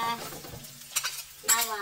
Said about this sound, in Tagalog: Okay, then, ilalagay natin tong sibuyas at saka